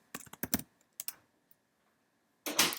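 Computer keyboard typing a filename, a quick burst of close key clicks, a pause with a few isolated taps, then a final louder flurry of keystrokes.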